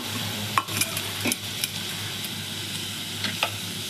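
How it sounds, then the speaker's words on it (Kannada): Chopped onions and chillies sizzle steadily in a hot pan for pav bhaji, with a few clinks and scrapes of a spoon stirring them close by and no talking. "ಈಗ ಎರಡನ್ನು ಫ್ರೈ ಮಾಡಬೇಕು"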